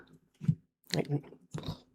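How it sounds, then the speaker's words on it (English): Three short bursts of crunchy chewing and biting as a cat chews on a cardboard box, close and crisp, separated by brief silences. "I can hear my cat chewing on a box behind me"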